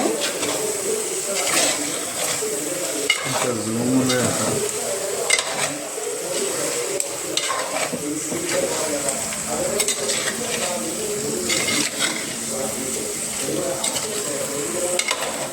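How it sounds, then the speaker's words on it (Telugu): A spoon works through fish curry in a pan, coating each piece in gravy, with soft scraping strokes and occasional clinks over a low, continuous sizzle, close and moderately loud. "ఇలా నీట్గా ప్రతి ముక్కకు గ్రేవీ పట్టేటట్టు కలుపుకోవాలి."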